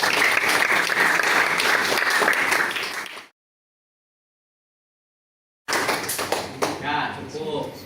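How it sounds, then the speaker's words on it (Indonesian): Classroom applause for a student during a lesson on artificial intelligence, a loud burst of clapping that stops abruptly into silence, then resumes briefly with voices speaking over it. "Tepuk tangan untuk Mas Diva Reza."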